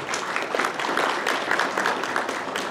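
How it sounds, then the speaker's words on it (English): Conference audience at an economic development session in the North applauding presenters, a brief steady round of clapping across the room. "So maybe give a round of applause."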